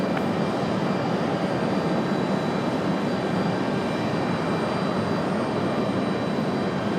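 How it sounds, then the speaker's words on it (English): A Boeing 737-700 jet lands at Raleigh Durham airport, a loud, steady, broadband engine roar that holds for several seconds with no break and no voices. "Now the 737-700 touchdown here."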